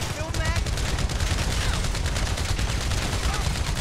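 Heavy weapon fire in GTA Online, a loud, continuous fusillade of rapid shots with a voice speaking over it.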